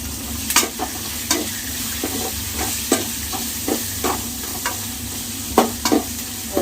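Onion, garlic, tomato and dried sundakkai sizzling in oil with asafoetida for a Nellai-style tamarind kuzhambu, a loud continuous fry broken by repeated scraping stirs of a spoon against the pan.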